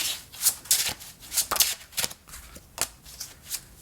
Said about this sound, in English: Let's just shuffle some out real quick.